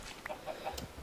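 A few short clucks from chickens in the video game Minecraft, spaced irregularly over a soft background, fairly faint and close.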